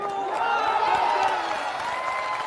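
Crowd applause with scattered cheering at a Jan Suraaj political rally in Bihar, a dense steady wash of clapping sustained throughout, loud and near, with crowd noise mixed in.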